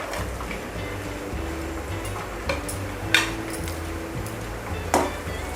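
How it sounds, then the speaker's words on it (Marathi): Dry fruits being sautéed in hot ghee in a kadhai, with soft scraping and stirring, faint sizzle underneath and a few sharp clinks of a spoon against the pan, quiet and close. "थोडे परतून घ्यायचे आहेत आपल्याला ड्रायफ्रूट।"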